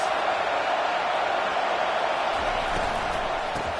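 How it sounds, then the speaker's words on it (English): A football stadium crowd at an MSU vs Maryland game roars as a steady, dense wash of noise that stays loud and unbroken throughout, with no distinct voices standing out. "This crowd trying to make life miserable for this offense."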